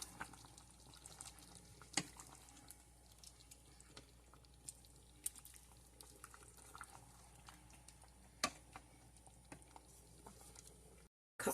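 Green Goddess seasoning and onion salt stirred into a beef and cheese ravioli soup: faint, soft scraping and sloshing in the pot, broken by a few sharp utensil clicks, with no talk.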